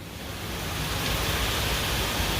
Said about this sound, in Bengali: কি পরিমাণ শিলা পড়তেছে।